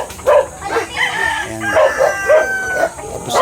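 A Rhode Island rooster crows loudly and close in a backyard chicken coop, a single full crow standing out over faint background farm sounds.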